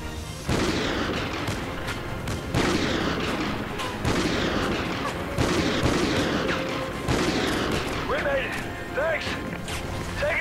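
Rapid bursts of gunfire and explosions from the Call of Duty: Ghosts campaign, a dense, loud barrage of shots and booms that continues for the whole stretch with brief pauses between volleys.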